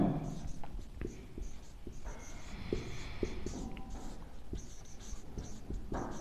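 A Hindi-speaking maths teacher writes on a board in a mensuration lesson, a run of soft scratchy strokes and light taps heard close under his spoken explanation.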